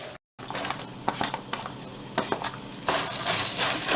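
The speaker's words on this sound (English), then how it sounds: "she's gonna stir it around, get the noodles a little toasted" Fideo noodles with half an onion toast in a pan for sopa, crackling and sizzling while a utensil scrapes and stirs them in quick irregular strokes, the frying growing brighter toward the end; no voices.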